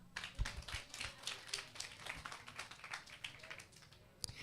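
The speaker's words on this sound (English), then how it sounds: "Clap her." An audience at a public Wi-Fi launch event in Santa Cruz claps in scattered, fairly faint applause, with many quick overlapping hand claps that carry on steadily for several seconds.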